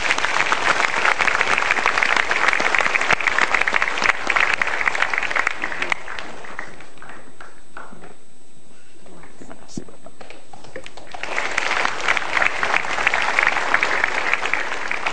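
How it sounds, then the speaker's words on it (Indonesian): A seminar audience gives loud applause in honour of parents, one burst of dense clapping, a quieter lull in the middle, then a second strong round, with someone briefly speaking thanks. "yuk kita berikan tepuk tangan penghormatan kepada semua orang tua kita"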